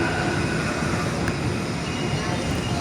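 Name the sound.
train station platform ambience at Nambo Station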